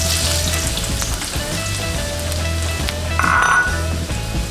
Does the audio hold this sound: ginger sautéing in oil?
yes